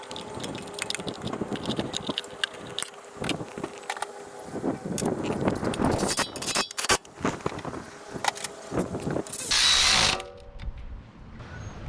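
A ratchet tightens bolts on a 1999 Toyota Camry during a timing belt job, giving bursts of close, rapid clicking with scrapes, clanks of tools and parts, and a brief whirring stretch near the end.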